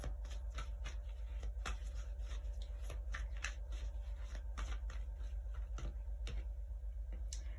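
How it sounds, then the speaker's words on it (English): Tarot cards are shuffled by hand in a quiet room, giving a run of soft, irregular clicks and riffles over a steady low electrical hum. "whilst I was shuffling those cards"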